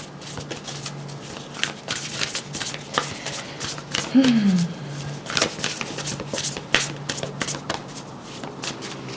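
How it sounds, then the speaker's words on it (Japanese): Tarot cards are shuffled by hand in repeated quick riffling bursts, close and crisp, with brief pauses between handfuls and a voice talking softly over part of it. "最後にもう一枚引かせてください。"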